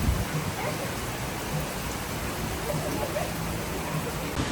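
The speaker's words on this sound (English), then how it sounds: "It's properly raining." Heavy rain pours steadily in Ho Chi Minh City, a dense, constant hiss that is loud and unbroken, with faint voices partly buried beneath it.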